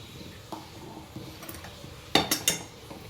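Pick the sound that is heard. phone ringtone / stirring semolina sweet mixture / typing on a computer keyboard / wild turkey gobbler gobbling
stirring semolina sweet mixture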